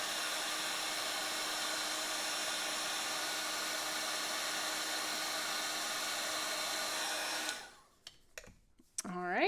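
A heat embossing gun melting stamped embossing powder blows a loud, steady, even whoosh for about seven seconds, then shuts off abruptly, leaving brief faint clicks and handling noises.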